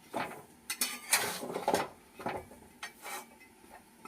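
Amla is stirred in hot salt in a pan, making irregular scraping and clattering bursts of spoon against metal with grainy rustles between strokes, close and fairly loud.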